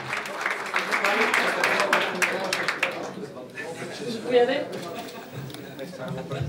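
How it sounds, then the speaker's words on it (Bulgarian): An audience applauds a football referee at an award ceremony, a dense patter of clapping that fades after a few seconds as a voice speaks over it and the room settles into chatter. "Моля за аплодисменти за Георги Йорданов."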